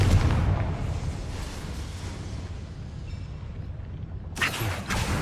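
A spell explosion from a Harry Potter video game bursts with a deep booming blast that rumbles and decays, then a sharper crackling burst follows near the end.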